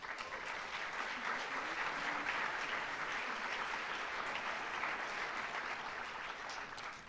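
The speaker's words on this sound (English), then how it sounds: "You just clapped" A crowd claps steadily throughout at a senior awards night, a dense, continuous wash of applause with no voices standing out.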